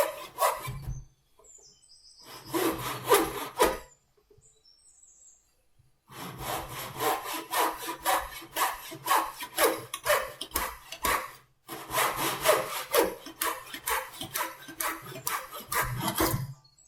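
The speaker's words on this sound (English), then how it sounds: "I found it difficult to get some purchase on the saw." A hand saw cuts wooden pieces for a picture frame on a workbench, giving close, rhythmic rasping strokes in several bursts separated by short pauses.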